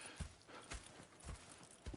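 Horses in Red Dead Redemption 2 clop along at a walking pace, hooves striking in a steady, fairly quiet rhythm.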